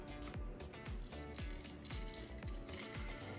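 A homemade vinegar and citrus cleaner is poured into a spray bottle, giving a soft, steady series of rhythmic glugs and trickles, faint and close.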